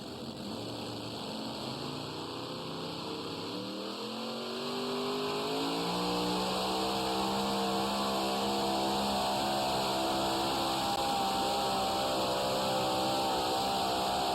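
Multi-engine pulling tractor at a tractor pull, a heavy engine drone that rises in pitch around four seconds and then holds a loud, steady roar to the end, with no talk.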